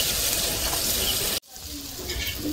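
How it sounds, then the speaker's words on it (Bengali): Bananas frying in a pan over a wood-fired stove, a loud steady sizzling hiss that cuts out abruptly partway through and then resumes more softly. "এদিকে কলা ভাজা হচ্ছে"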